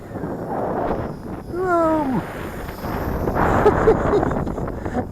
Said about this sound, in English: That wind is hitting it really hard, folks, and it's flying in this wind.